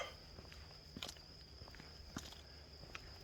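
Faint, steady high-pitched cricket chirping drones in the distance while footsteps crunch softly nearby outdoors.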